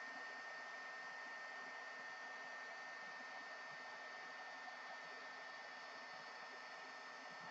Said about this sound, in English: Let's emboss this.